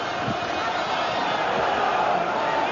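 A sellout boxing crowd of 11,000 roars continuously during the Nigel Benn vs Gerald McClellan fight, a dense loud wash of cheering and shouting that stays steady throughout.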